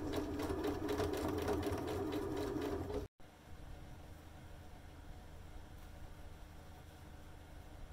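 A sewing machine stitches a ribbon channel on a small handmade bag, running in a steady, fast whirr for about three seconds, then a brief stop and a quieter mechanical hum afterward.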